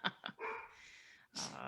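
Dog barking nearby, two quick sharp barks followed by a longer drawn-out bark or whine and another bark, fairly faint.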